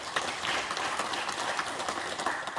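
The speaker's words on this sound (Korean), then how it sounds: "박수 부탁드립니다" Steady applause from a crowd at an academic lecture event in Sangju, Korea, dense clapping filling the whole stretch at an even, moderate loudness with no voices on top.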